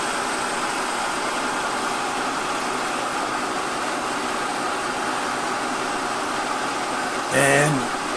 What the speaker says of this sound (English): See the lathe up to speed there, and the spindle up to speed